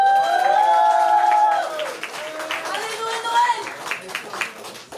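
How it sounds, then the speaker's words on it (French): At a slam poetry tournament, an announcer's voice leads into an audience breaking into scattered clapping and crowd noise, with speech continuing faintly over the applause. "Veuillez accueillir dans un tonnerre d'applaudissements l'homme que l'on nomme Noël."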